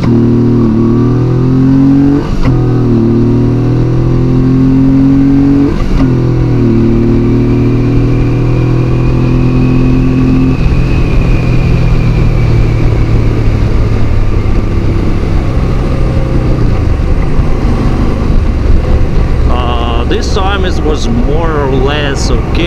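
A stock Honda VTX1800 motorcycle accelerates hard. A loud, close engine note rises through the revs, with steady roaring drone and wind noise, and there is a brief shift-like change near the end.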